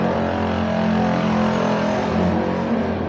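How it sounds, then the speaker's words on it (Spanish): A motorbike engine labours uphill, giving a continuous, loud, strained drone with steady harmonic tones and no voices. "Está sufriendo la moto."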